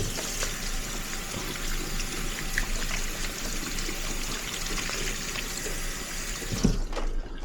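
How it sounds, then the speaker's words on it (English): A kitchen tap runs steadily as hands are washed under it, a continuous close splashing stream that ends with a brief clunk near the close. "Okay, so let me clean myself real quick. I wash my hands."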